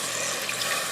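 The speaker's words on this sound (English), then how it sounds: "I'll add some water," Water pouring into a pressure cooker with steak while cooking, a close, steady splashing rush without talk.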